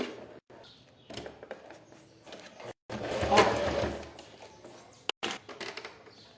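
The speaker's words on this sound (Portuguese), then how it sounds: "E vou costurar bem na beirada" A sewing machine stitches bias binding along the edge of a thick thermal lunch bag, running in uneven bursts broken by short pauses, close and fairly loud.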